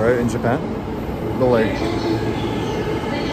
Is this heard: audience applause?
no